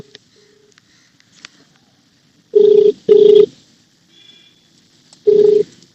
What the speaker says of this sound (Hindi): मनीष कुमार कलेर थाना से फोन नहीं उठा रहे हैं।